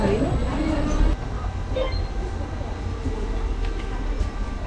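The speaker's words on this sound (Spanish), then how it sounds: "para subir al mirador de San Pedro hay que coger este elevador de gloria" The Elevador da Glória funicular in Lisbon runs on its steep rail line with a loud, steady rumble and rattle of a rail car, accompanied by continuous street background noise close by.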